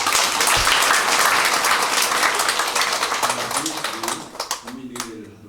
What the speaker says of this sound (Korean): 여러분들의 큰 박수로 시작하도록 하겠습니다.